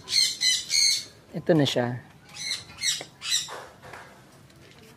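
An African Grey Parrot at a farm in Pampanga gives a series of loud, harsh squawks close by, repeating in bursts with short gaps, while a person talks over and between the calls.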